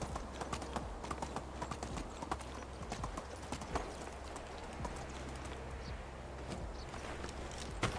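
Horse hooves walking in the medieval life-sim game Medieval Dynasty, a steady clip-clop rhythm of footfalls on ground that continues throughout, with faint birdsong and outdoor ambience behind it.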